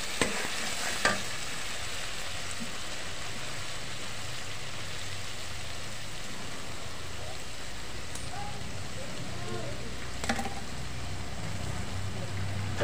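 Masala with tomato sizzles and fries in a pan while being stirred for a small-fish curry, a continuous close frying hiss with occasional scraping stir sounds and a couple of sharp clinks.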